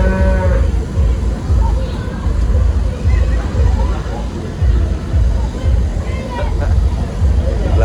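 Cattle low repeatedly amid the crowd at Jamaica's Denbigh Agricultural Show, loud moos rising over constant hubbub, people talking and passing vehicles.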